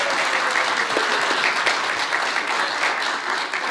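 Loud, dense applause from a congregation during an Earth Day service, honoring a music group, steady and close for a few seconds with no voices.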